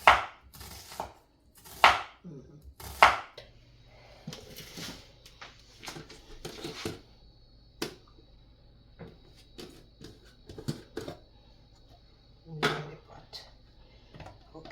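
Mustard greens for callaloo are chopped with a knife on a board, giving several sharp, loud chops early and then lighter, scattered cuts, with a voice talking in between.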